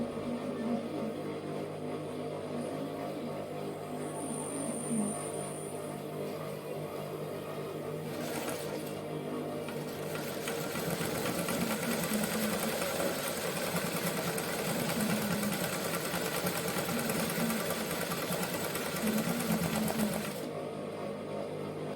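A sewing machine embroiders around a flower's centre and petals, running with a steady fast mechanical whir throughout, then a busier, louder stretch of stitching before it eases off near the end.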